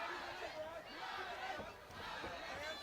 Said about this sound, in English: A lot of support from the home crowd here